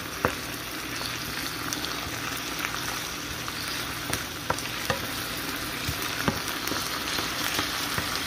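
Honey shrimp and mushrooms fry in a pan with a steady, even sizzle that runs throughout, broken by a few faint clicks of a utensil against the pan, and no voices.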